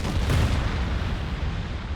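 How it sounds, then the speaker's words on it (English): A big explosion in the video game Monster Hunter Rise: Sunbreak, a loud sustained rumbling blast with heavy low-end boom that rolls on for about two seconds without talk. "That's a big explosion."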